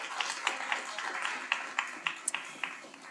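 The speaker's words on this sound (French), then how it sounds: "si vous pouvez les applaudir" An audience applauds guests at a morning entrepreneurship event, with scattered hand claps that thin into a few sharper, separate claps over about three seconds.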